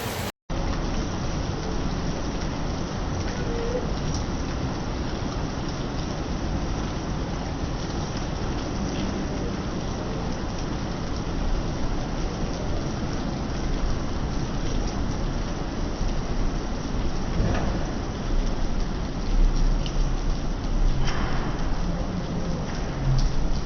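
Heavy rain pours down in a steady, dense hiss of drops striking surfaces, loud and unbroken for the whole stretch, with faint rumbles in the background and no talking.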